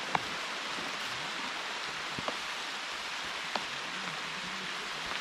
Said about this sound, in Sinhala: ඔව් දැන් වහිනවා මල්ලි.